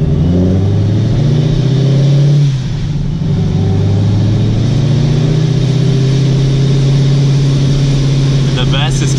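An 840hp C7 Corvette engine revs hard at full throttle, a loud, sustained, deep roar that briefly dips near the start and then climbs again, staying close and dominant throughout.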